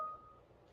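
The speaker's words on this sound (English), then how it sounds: "People keep pinging me, and I get all these beeps." A short, faint electronic notification beep from a computer receiving incoming pings, a single tone sounding alone over a quiet background.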